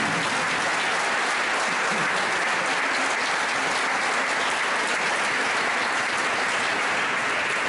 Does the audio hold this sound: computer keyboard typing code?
no